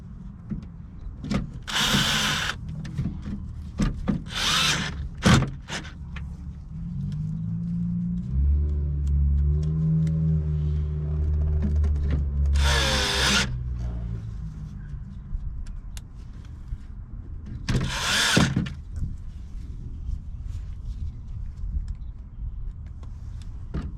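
A power drill drives speaker screws into the door of a Ford Expedition, in four short, loud whirring bursts separated by quieter stretches of low rumble and handling noise.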